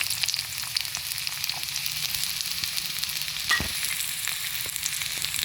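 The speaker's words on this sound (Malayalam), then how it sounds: "ഇനി നമുക്ക് നമ്മളെ കറിയൊന്ന് വറവ് തയ്യാറാക്കാം അപ്പം അതിനെതിരെ ഞാൻ ചെറിയ ഉള്ളിയാണ് എടുത്തിട്ടുള്ളത്" Small onions fry in hot oil for a curry tempering, giving a steady, close, even sizzle with a brief stirring scrape partway through and no voices.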